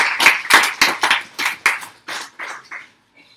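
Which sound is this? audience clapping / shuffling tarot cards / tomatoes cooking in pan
audience clapping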